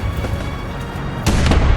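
A bomb detonates in the War Thunder combat game, a loud low boom rolling under constant rumbling battle noise, with a sharper burst of impacts near the end.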